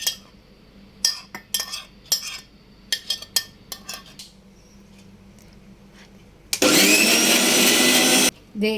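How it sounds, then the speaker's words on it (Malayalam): Clinks and clatters of a small mixer grinder jar and lid come first, then the mixer grinder whirs loudly for under two seconds before stopping. "ഇത് നമുക്ക് മിക്സിയുടെ ചെറിയ ജാറിലോട്ടിട്ട് ഒന്ന് അടിച്ചെടുക്കാവേ."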